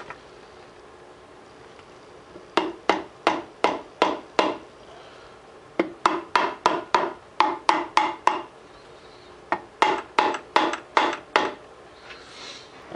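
Kawasaki KLX 300 motorcycle engine case halves being tapped into place, heard as three close runs of sharp, evenly spaced knocks with brief pauses between them.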